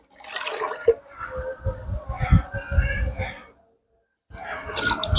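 Rice-wash water mixed with molasses and EM4 is stirred in a container, giving wet sloshing and dripping that runs steadily for several seconds, stops briefly, then resumes close and fairly loud, with faint voices at moments.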